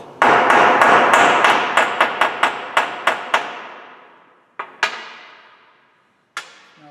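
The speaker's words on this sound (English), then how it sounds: "So when you tap it into place, it actually flares out that head and holds on there nice and tight." A hammer taps a pin into a hydraulic tubing puncture tool's punch, a quick run of about ten sharp metallic strikes followed by two more spaced taps and one final strike, each ringing briefly, close and loud with no talking.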